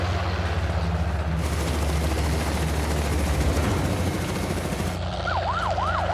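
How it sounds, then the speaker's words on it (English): A helicopter flies low and close beside a wildlife capture boma, its steady rotor throb droning continuously; a wailing siren rises and falls near the end. "I can hear the helicopter right at the mouth of the boma."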